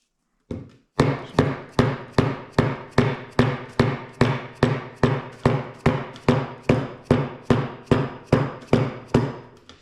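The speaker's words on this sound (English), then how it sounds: "Some taps with a nice dead blow hammer, so it's getting it seated down there real nice" A dead blow hammer taps parts down into a Western plow pump during a rebuild, about eighteen evenly spaced solid thuds in a steady rhythm, close and clear with nothing else over them.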